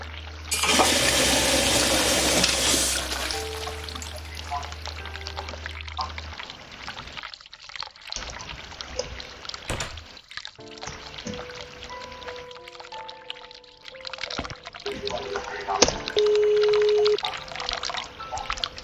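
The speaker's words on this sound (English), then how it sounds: "Flush." A toilet flushes in the horror video game The Cat Lady, a loud rushing burst of water up front that settles into gurgling and trickling refill with scattered clunks.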